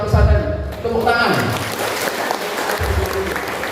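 An audience claps through a community sanitation and health presentation at a pesantren in Wanayasa, a steady wash of applause that runs beneath a speaker's voice.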